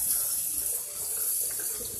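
Hot tap water running steadily at close range, splashing as it is used to melt a large block of ice while defrosting a refrigerator; a continuous hiss with no talk.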